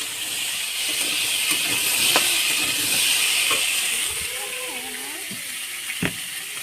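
Potatoes sizzling in a hot pan while being stirred, a steady, fairly close frying hiss running throughout, with occasional scraping clicks and a soft voice in the background.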